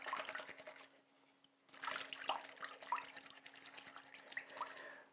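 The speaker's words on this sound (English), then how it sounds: "the stockings you just swoosh around as well" Stockings are hand washed, swished around in water, giving quiet, close sloshing and dripping splashes in irregular bursts with a short pause partway through.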